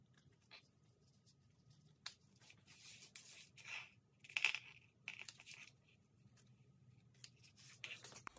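Scissors snip through a homemade respirator filter material, a series of short crisp cuts spaced irregularly, close and fairly faint, with no talking.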